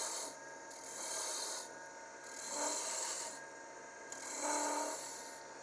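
A rasp files back and forth across a wooden handle in slow, even strokes, rounding it off, three long rubbing passes close by.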